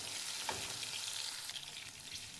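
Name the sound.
garlic and green chillies frying in oil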